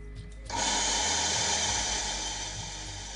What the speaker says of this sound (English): Grind the coffee beans